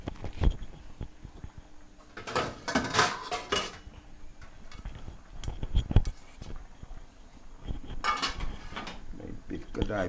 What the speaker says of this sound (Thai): ฝาหม้อปิดสักหน่อย